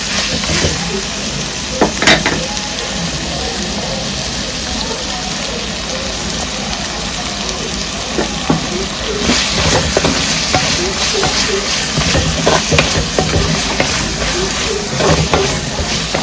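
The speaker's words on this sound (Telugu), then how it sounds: "పచ్చివాసన పోయే వరకు ఒక మూడు నిమిషాలు వేగనిద్దాం" Pulao masala with chilli powder frying in oil in a pot, a steady close crackling sizzle with occasional stirring scrapes, continuous throughout.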